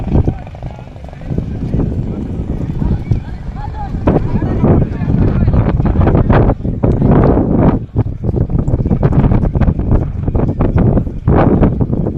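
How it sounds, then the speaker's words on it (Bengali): Strong wind buffets and roars steadily throughout, rushing close and loud, with gusty swells and occasional voices mixed beneath. "বাতাস উড়ে নিয়ে যাচ্ছে একদম প্রাকৃতিক একটা বাতাস"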